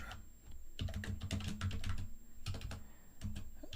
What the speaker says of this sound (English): I'm just typing out a last message to him.